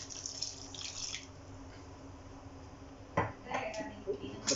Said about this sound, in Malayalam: ഇച്ചിരി വെള്ളം ഒഴിക്കണം.